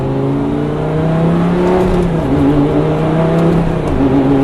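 A Lamborghini engine is held at high revs and bounces off the rev limiter, giving a loud, steady, buzzing drone with slight wavering in pitch throughout.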